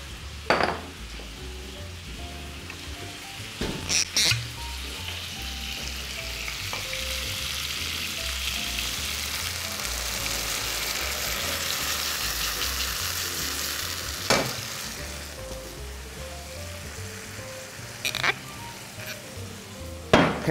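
Ham and bacon with other ingredients fry in a pan, giving a continuous close sizzle with a few utensil knocks and scrapes scattered throughout.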